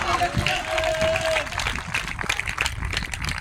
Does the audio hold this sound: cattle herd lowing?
no